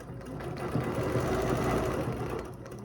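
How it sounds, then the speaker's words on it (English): A domestic sewing machine with a ruler foot stitching a geometric quilt design runs in a steady, close, rapid mechanical hum of needle strokes throughout, alone and fairly loud. "So I'm going to just start stitching my first design"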